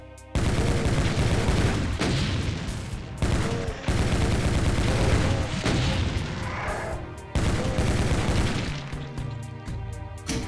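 Rapid gunfire in the video game Doom 2, loud bursts of repeated shots and booming blasts in several clusters with brief gaps between them, no talk.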